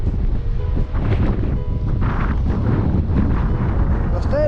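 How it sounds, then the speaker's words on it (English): Strong storm wind buffets the microphone on Buncrana beach, Co Donegal, a loud continuous roar with gusty rumble and surf wash, with brief talk mixed in. "It's unbelievable how warm that wind is."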